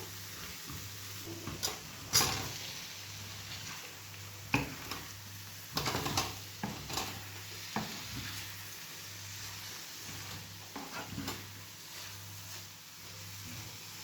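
Potatoes fry in a pan with salt and spices being stirred in, giving a soft steady sizzle broken by scraping stirs and utensil knocks against the pan. No one talks.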